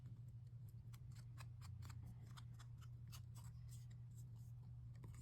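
Scissors fussy cutting paper for a floral card, a series of small crisp snips in an uneven rhythm, quiet and close, over a low steady hum.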